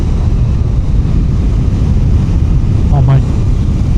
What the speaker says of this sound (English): This is a windy day.